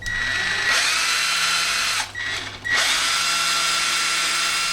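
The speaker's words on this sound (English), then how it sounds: "I'm going to use a drill to get the hole started" A power drill starting a screw hole whirs loudly up close, briefly slowing and pausing before spinning back up to a steady high-pitched drone.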